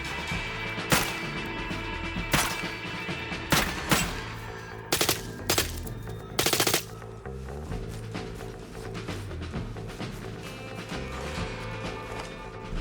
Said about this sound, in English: when you fire bullets at it, they'll pass straight through, as you can see here